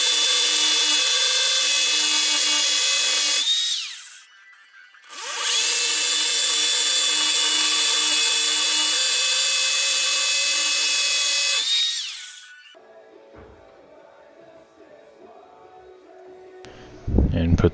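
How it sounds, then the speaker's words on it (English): A power drill bores holes into a concrete wall in two long, loud whining bursts separated by a brief pause, then quieter handling noises and faint background sounds. "And then drilling more holes."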